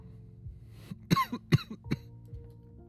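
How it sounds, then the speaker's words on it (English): A few sharp coughs close by, three or four bursts in quick succession with a throat-clearing quality, over a quiet low background hum. "Sorry for the cough there."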